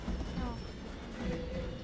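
Train passing in the video game Hidden Agenda, a rolling rumble with faint squealing tones, moderately loud for under two seconds.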